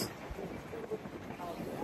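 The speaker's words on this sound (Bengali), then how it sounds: "প্রচন্ড বাতাস" Strong wind sweeps across Plage de Breck, a beach in France, producing a continuous rough, buffeting rush against the microphone that stays loud and unbroken throughout.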